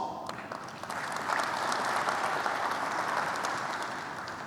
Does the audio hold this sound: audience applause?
yes